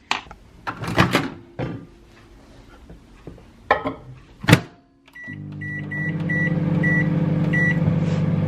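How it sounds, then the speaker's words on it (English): A microwave oven starts up and hums steadily while melting candle wax, a low continuous drone with a faint rattling turntable, after some nearby clatter and handling knocks. "So put that in the microwave now and melt it"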